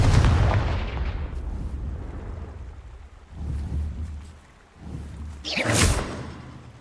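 Confringo fire-blast spells in Hogwarts Legacy go off as booming explosions, with a heavy rumbling blast at the start and more muffled bursts that swell and fade, ending in a sharper crackling burst.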